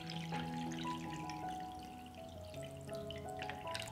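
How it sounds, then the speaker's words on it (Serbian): Water poured into a pot of glass jars, filling up to the height of their lids. A continuous close rush and gurgle is heard, with faint ringing tones shifting through it, and no talking. "Sipat ću vodu do visine poklopca."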